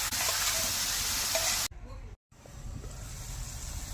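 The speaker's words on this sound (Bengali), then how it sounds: "কালো সর্ষে, শুকনো লঙ্কা দেওয়া তেলে এবার ধুয়ে রাখা চাল কুমড়োগুলি দিয়ে দেব।" Washed ash gourd pieces hit hot oil flavoured with black mustard seeds and dried chilli. A loud sizzle breaks off into a brief quiet gap, then a softer frying hiss returns.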